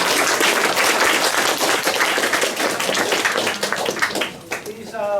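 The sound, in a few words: audience clapping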